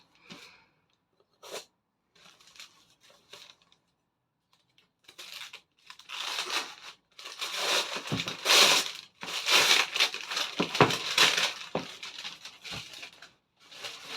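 Brown paper packaging being torn open on a mail parcel: scattered crinkles and rips that build into a loud stretch of tearing and crumpling, with quieter handling pauses between, no speech.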